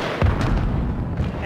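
A grenade goes off in Call of Duty Modern Warfare as a short, heavy boom with a low rumbling tail amid ongoing multiplayer combat noise.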